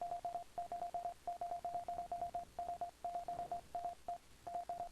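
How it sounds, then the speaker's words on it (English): Steady Morse code beeping from the video game Illusion of Gaia: a single clear tone keyed in rapid short and long pulses, repeating continuously over faint background hiss. "There's a lot of Morse code."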